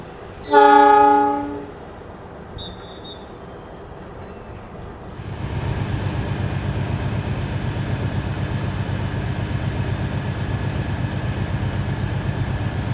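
A passenger train horn blasts briefly, then a CC 206 locomotive hauling the Gajayana train rumbles steadily and loudly as it rolls past for several seconds.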